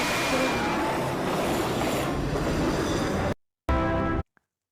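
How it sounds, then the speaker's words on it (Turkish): A roller coaster in a scary animation roars along with a dense rumbling rush of track noise, loud and continuous, then breaks off suddenly, returns briefly and cuts to silence. "Hız treni var."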